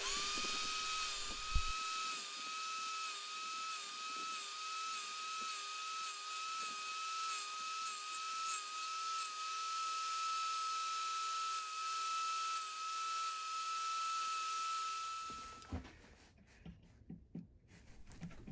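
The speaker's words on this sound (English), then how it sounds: "bringing the blade down on the table saw to halfway down, which I'm going to cut some trench cuts" A table saw with its blade lowered to half height cuts trench cuts in wood for lap joints on a coal storage box. It gives a steady, high, whining tone that wavers slightly, then stops abruptly, leaving quiet handling noises.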